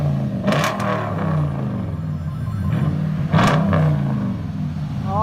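A Toyota Tundra 5.7L V8 with an aftermarket exhaust revs up in short bursts, loud and close, with a rumbling idle between blips.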